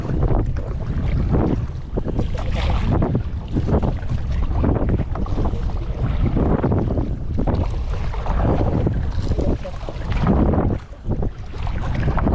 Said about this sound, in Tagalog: Ay, naghangin pang kusog.